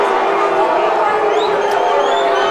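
Crowd noise from spectators at an MLS soccer game near halftime, a sustained mass of voices rising in disapproval, loud and close with overlapping shouts.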